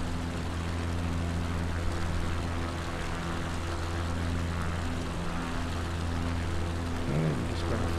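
Propeller engine of an xCub light aircraft in a flight simulator, cruising over the Atlantic: a steady, loud, continuous drone with a constant low hum, holding unchanged throughout.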